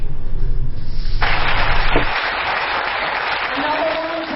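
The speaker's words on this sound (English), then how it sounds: "That thunderous applause by men of the Nigeria Police Akwa Ibom State Command" Officers of the Nigeria Police Akwa Ibom State Command clap during a New Year session with junior officers, loud group applause that cuts off after about two seconds and gives way to a quieter stretch.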